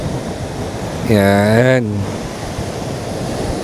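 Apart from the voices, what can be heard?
strong ocean waves at the beach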